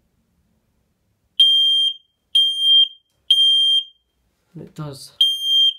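A FireAngel smoke detector under test sounds its alarm: loud, piercing electronic beeps in a steady on-off pattern, four half-second tones with a brief spoken remark slipped in before the last.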